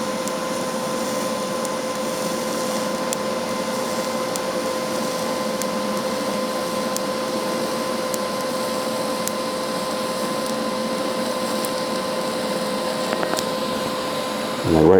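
Steady TIG welding arc, a continuous even buzzing hum with faint high ticks, holding level and unbroken throughout at close range.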